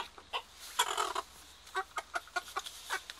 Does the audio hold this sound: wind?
no